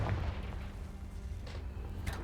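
A Confringo fire spell bursts in Hogwarts Legacy, a dull booming blast with low rumble and a couple of brief bright crackles, heard alone at moderate level with no talk.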